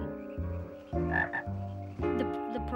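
Dense chorus of frogs croaking loudly and continuously in overlapping low rhythmic pulses, close by, with no talk.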